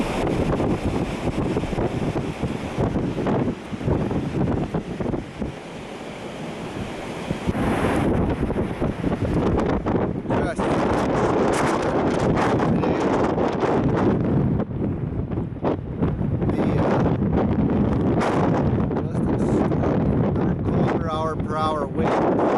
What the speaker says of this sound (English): It's so incredibly windy.